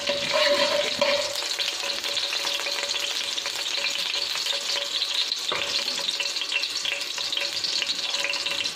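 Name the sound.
white cumin seeds sizzling in hot oil in a kadai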